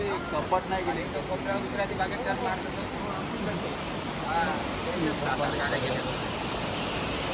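Steady rushing roar of the flooded Bharangi river, broad and constant, with faint indistinct voices and small clatters scattered beneath the water noise.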